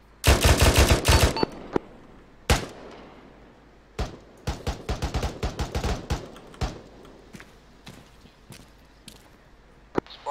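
Artillery firing in the Arma 3 video game: a rapid opening burst of heavy shots, then isolated booms and a later cluster of irregular reports fading to sparse distant thuds.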